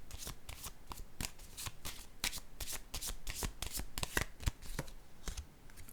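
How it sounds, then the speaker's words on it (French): Tarot cards being shuffled and drawn, a steady run of crisp riffling flicks and snaps up close, with faint murmured talk now and then. "Je vais piger une autre carte ici."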